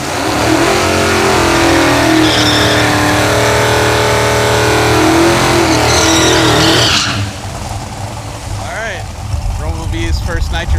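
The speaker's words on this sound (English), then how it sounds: "And then I'll be ready to make a nitrous pass." Loud Hemi-powered gasser engine roaring and accelerating hard on a nitrous drag pass, a sustained high-revving blast for about seven seconds before cutting to quieter, rougher engine and wind noise.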